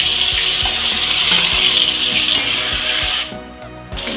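Prawns hit hot oil in a wok with a loud, bright sizzle, punctuated by rhythmic clatter and stirring knocks, before the hiss suddenly drops away near the end.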